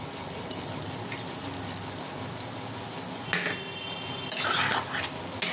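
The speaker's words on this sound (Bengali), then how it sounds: "এবার একটুখানি আরেকটুখানি কষে নেবো।" Watermelon pieces and sugar being sautéed in a pan for a Bengali watermelon and prawn dalna, with a steady soft sizzle under scraping stirs and occasional utensil clinks against the pan.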